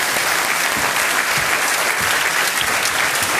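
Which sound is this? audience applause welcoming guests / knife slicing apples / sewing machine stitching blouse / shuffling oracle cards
audience applause welcoming guests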